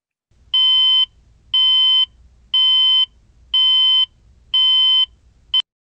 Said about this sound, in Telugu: alarm sound